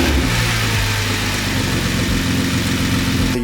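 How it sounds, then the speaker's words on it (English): A Nissan GT-R engine runs loud and close, idling with a deep rumble and rising briefly into revs before settling again. "So let's do a quick rev."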